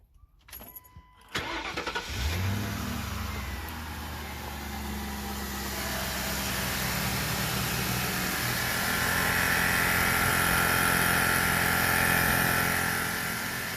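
A replacement air suspension compressor on a 2000 Lincoln Town Car starts after a few clicks and runs with a steady mechanical hum and whir, rising gradually in loudness, no voices.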